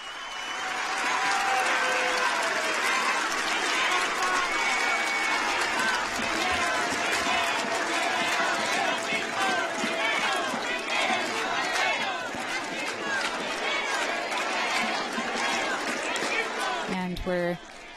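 Large crowd of some 25,000 volunteers at World Youth Day in Portugal, a dense roar of cheering and chatter that holds throughout, with commentary heard over it.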